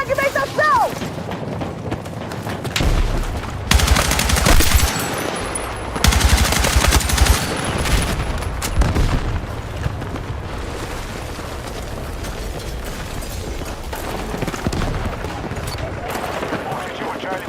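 Fragmentation grenade explosions and bursts of machine-gun fire in a shooter video game, with heavy booms and rapid rattling volleys, loud and close, alternating with quieter stretches of distant combat noise.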